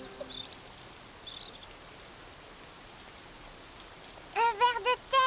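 Soft, even rain patters down in a cartoon garden with a sandbox, a faint steady hiss, with brief chirping bird calls near the start and a burst of cartoonish voices at the end.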